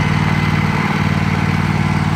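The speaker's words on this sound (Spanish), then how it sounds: "Es un tractor." A children's ride tractor at a Children's Day celebration runs with a steady, loud, low engine drone throughout the short stretch, close by and with no talk.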